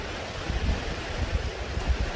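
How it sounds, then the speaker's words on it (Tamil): Rushing water of Jalagamparai Falls at Yelagiri, a continuous broadband roar with low rumbling surges and gusty buffeting, no voices. "ஜெகதாம்பரை ஃபால்ஸு பார்த்துட்டீங்க, தண்ணி நல்லா வருது"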